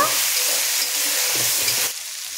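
Masala frying with ground tomato paste in a pan, a loud steady sizzle close up that drops sharply in volume near the end.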